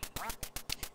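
Ducks quack from an NES game running on the 3Dsen emulator, several short nasal quacks in a quick regular rhythm, loud and close, set against steady electronic game sound.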